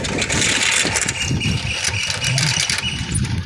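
A BMW car engine runs loudly and steadily close by, with a continuous mid-pitched rumble and no speech.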